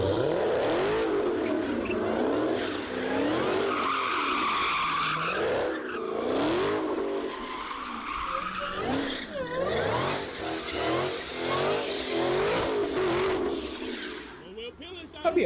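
A 1200-horsepower Hellcat sliding with one wheel spinning gives steady tire squeal and skidding over a constantly revving, wavering engine roar. Loud and close, it never lets up for the whole stretch.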